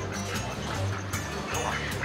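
Ducks quack at a restaurant's animal section in Hyderabad, repeated nasal calls fairly close over a noisy background throughout the short stretch.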